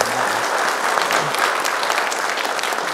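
A room full of people claps steadily, a dense, even wash of applause lasting a few seconds.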